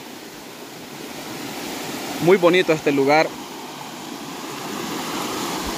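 A small stream flows in a continuous soft rush outdoors, steady throughout, with a person briefly speaking over it near the middle.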